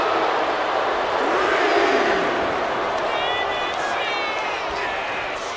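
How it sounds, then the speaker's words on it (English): Arena crowd in the wrestling video game WWE 2K26 roaring and chanting "finish it" at a Smackdown match, a loud continuous wall of voices with rhythmic shouting rising toward the end. "Fans in the crowd saying finish it."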